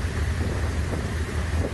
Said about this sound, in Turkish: Yaz yağmuruydu ama korkuttu.